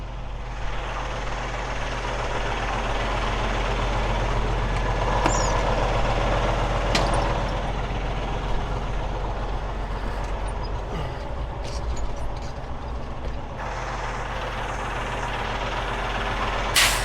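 A semi truck drives with a steady low rumble and road noise throughout, punctuated by a few brief clanks and rattles, with no talk.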